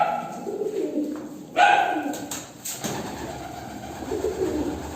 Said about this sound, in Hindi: ये देख सकते कबूतर हैं सारे बच्चों वाले माशाल्लाह।